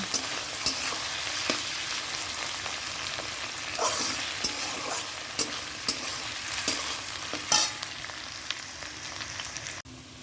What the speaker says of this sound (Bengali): এখানে আলু ভাজা করছি একটু কালো জিরে দিয়েছি শুকনো লঙ্কা দিয়েছি